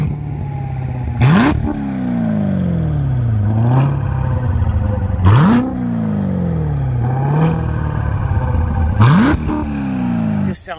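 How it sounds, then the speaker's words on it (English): A Chevrolet Corvette Z06 engine is revved close by three times, each rev climbing to a loud roar and then falling back to a steady idle rumble. "the guys are always like, rev it up, man."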